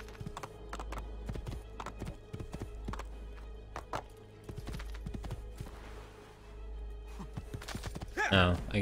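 A horse in the video game Assassin's Creed II trots over rough terrain, with irregular hoof clops at a steady pace over a low background hum and a brief whinny near the end.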